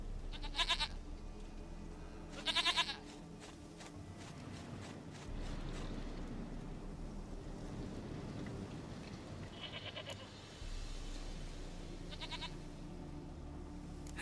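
Short goat bleats from The Witcher 3 come in a loose series, two close together early, then more spaced out later, each moderately loud above a constant low rumble of in-game ambience, with no voices.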